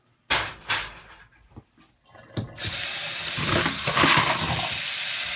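After a few clunks and knocks, cold water from a tap gushes out in a steady, loud stream over boiled filter stones being rinsed, splashing close by and continuing to the end.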